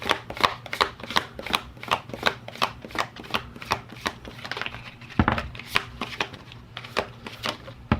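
Overhand shuffling of a deck of cards at a desk, a steady run of sharp riffling slaps repeated many times, close and clear with no talk.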